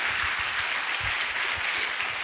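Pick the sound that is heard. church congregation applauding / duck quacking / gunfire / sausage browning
church congregation applauding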